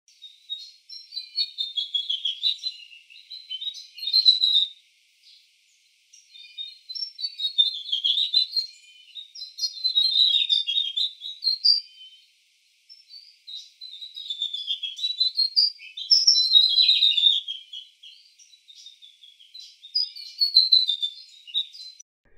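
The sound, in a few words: birds calling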